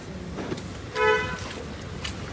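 A vehicle horn gives one short toot as people climb into an auto rickshaw, set against faint street background and brief voices.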